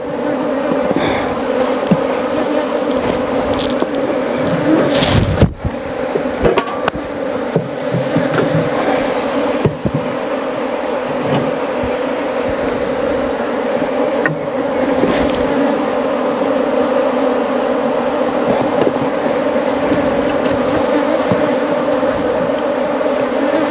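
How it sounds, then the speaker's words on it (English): Agitated honey bees at an opened hive swarm in a loud, dense, unbroken buzz that holds throughout, with small knocks and rustles now and then. "As you can see, the bees are getting aggressive."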